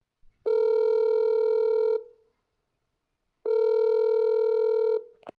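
A telephone call rings out with two long, steady electronic ring tones separated by a silent pause, clear and alone with no voices.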